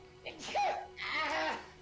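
Two quick sneezes in a row during a relaxed livestream chat, close and fairly loud, each a sharp burst with a breathy tail and no speech over them.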